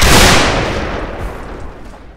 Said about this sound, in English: So you see, he just shot a volley, nothing really went out of that.